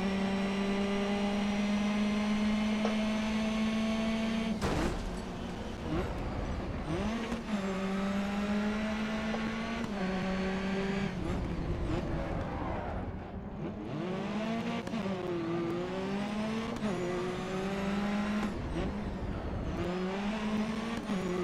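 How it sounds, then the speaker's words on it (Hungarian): A roaring race car engine in the GRID Autosport racing game, loud and continuous for the whole stretch, with the pitch climbing and dropping through gear changes and a few brief dips between shifts. "Most egy kicsit hallgassuk a"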